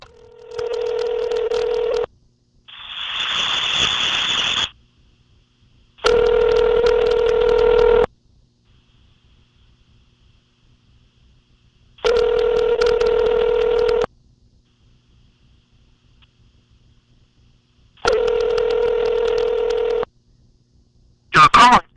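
A phone call goes out to a show guest: a burst of dialing tones comes first, then loud ringback tones in regular two-second pulses, each separated by several seconds of near silence, with a brief final chirp.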